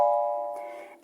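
A single chord rings out on a keyboard, its root left out and a diminished ninth added on top, struck once and then decaying over about a second, alone and fairly soft.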